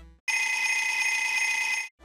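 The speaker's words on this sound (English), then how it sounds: "a ringing alarm clock" A synthesized alarm clock ring from a Kirby handheld video game, one sustained bright electronic bell tone with steady buzzing harmonics, starting abruptly and cutting off cleanly, heard alone.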